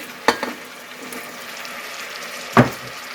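Lean hamburger and chopped onion in melted butter in a pan: a quiet steady sizzle, broken by two distinct clattering scrapes as the meat and onion go in, with no talk.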